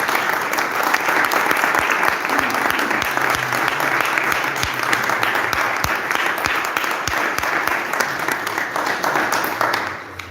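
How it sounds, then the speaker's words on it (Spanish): Audience applause at the end of a conference talk: a dense, steady wash of many hands clapping, loud and continuous for about ten seconds before tapering off at the very end. "Pues un aplauso"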